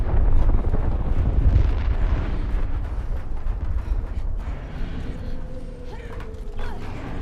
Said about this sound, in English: Now that's a proper ion cannon.